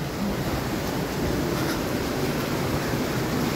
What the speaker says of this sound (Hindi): पानी किस क़ुव्वत के साथ यहाँ गिरता हुआ आपको नज़र आएगा।